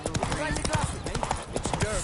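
Geralt's horse Roach gallops in Witcher 3, a quick run of rhythmic hoofbeats clattering steadily beneath a voice talking over them.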